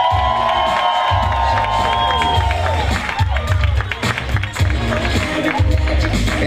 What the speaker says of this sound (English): we can clap, we can continue to keep clapping